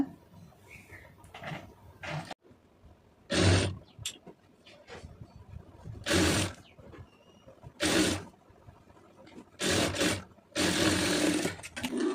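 A sewing machine stitches the lining of a cotton blouse in several separate loud bursts, with quiet handling and shuffling of fabric between runs.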